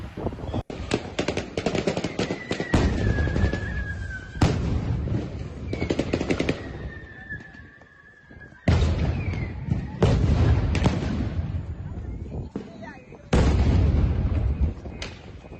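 Gunfire and grenade blasts in the Russia-Ukraine war, with loud bursts of rapid shots and heavy booms coming in clustered volleys, separated by short lulls, close and harsh.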